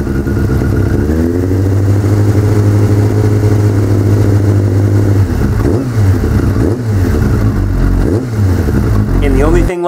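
A Suzuki project motorcycle engine, freshly regeared with valves adjusted and carbs synced, idles and then revs in several quick, sharp blips, loud and close, with a voice talking over it.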